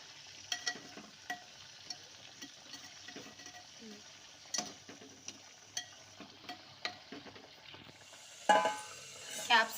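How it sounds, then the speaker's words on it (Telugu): Capsicum cooks in a clay pot with a soft steady sizzle, broken by light taps and scrapes as pieces are turned, and a louder clatter near the end under quiet talk. "ఇంకొక వైపు కూడా ఇలా తిప్పుకోవాలి."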